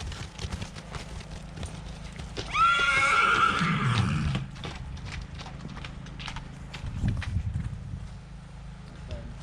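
A stallion, a heavy draft horse, neighs loudly for about a second and a half, with hoof clops and shuffling around it and faint background voices.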